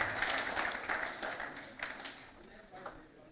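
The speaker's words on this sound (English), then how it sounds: "Please, a round of applause for him." A round of applause from an audience at a talk, a brisk patter of clapping that gradually thins and fades.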